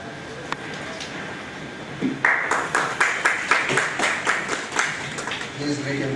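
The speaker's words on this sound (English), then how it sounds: "Please greet him with the roll of applause." An audience at a one-day training programme for peer reviewers in Bengaluru breaks into rhythmic clapping that builds and carries on steadily, with voices heard in the hall.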